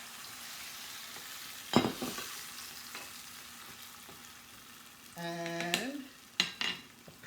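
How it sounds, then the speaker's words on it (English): Tomatoes drop into hot ghee with cumin seeds, chilies and ginger in a pan, giving a steady close sizzle and a sudden burst of frying, with a few clanks of utensil against the pot. "now this is 2½ tomatoes. Drop them in."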